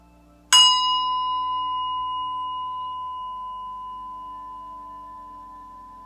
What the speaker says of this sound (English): listen to the entire sound of the bell